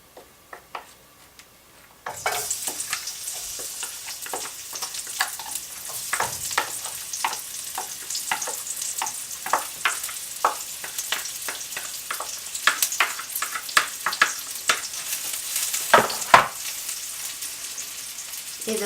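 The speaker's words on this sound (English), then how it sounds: "fry up your onions together with the prawn stock" Onions frying with prawn stock in a pan for a Malaysian choko in coconut milk dish: steady sizzle after a quiet start, with frequent stirring scrapes and clinks close up, no talking.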